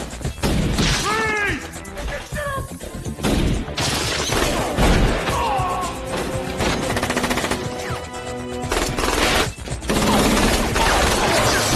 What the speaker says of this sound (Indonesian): terjadilah baku tembak di sana